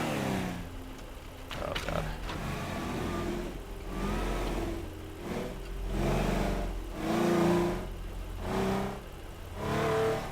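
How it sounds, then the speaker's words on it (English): A car engine in the video game Teardown revs and accelerates in repeated surging waves, rising and falling roughly every second or two, with a brief exclamation from a voice early on. "Look at how fast this car is."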